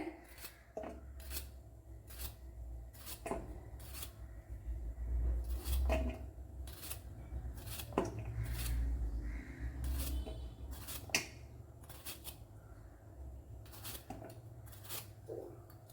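Bitter gourd being sliced into pieces with a knife, a steady series of sharp crisp cuts repeating about once a second, close and fairly quiet, with a faint low background hum and no talking.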